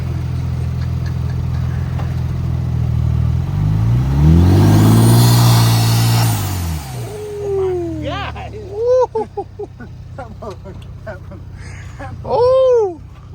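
A twin-turbo car engine with a Roush air filter at a night car meet, revving to a loud swelling roar that rises and falls over several seconds, followed by short chirping whines and voices talking nearby.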